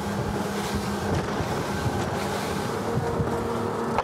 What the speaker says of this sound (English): The engines are very capable of running at high revs for an extended period of time.